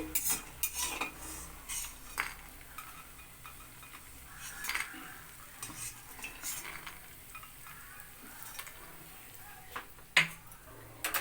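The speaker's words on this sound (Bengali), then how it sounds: "এবার আমি কড়াইটাকে সরিয়ে নিচ্ছি, প্রথমে বড়িগুলো সব তুলে নিচ্ছি" A kadai is shifted aside on the stove as fried lentil bori are lifted out, with faint sizzling under scattered metal clinks and scrapes of utensil against pan.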